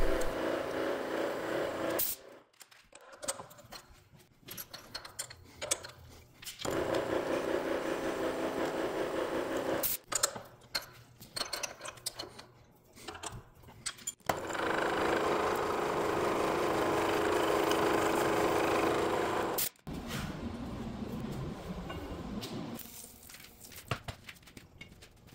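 A milling machine drilling a 5/8 inch hole in a hydraulic cylinder during a re-barrel repair, steady grinding stretches broken by sudden stops and restarts, moderately loud and without talking.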